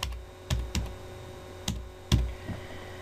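Keys tapped on a computer keyboard while an email subject line is typed, a handful of sharp, close clicks spaced irregularly in a quiet room.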